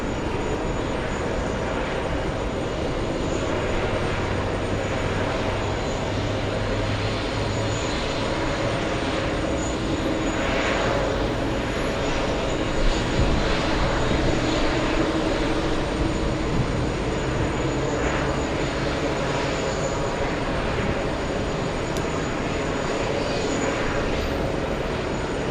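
Air New Zealand airliner at JFK, its jet engines producing a continuous loud roar with a low droning hum beneath, steady and unbroken throughout with no speech.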